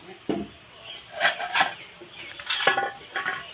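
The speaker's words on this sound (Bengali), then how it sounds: "এরপর ঢাকনা দিয়ে এটা তিন মিনিটের মতো রাখবো" A lid clatters onto a pan where brushed aloo kulchas are cooking, with a few close metallic clinks and rattles in short bursts and no voice.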